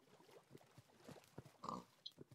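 A pig in a video game grunts and oinks in a series of short, faint snorts, irregularly spaced against a quiet background.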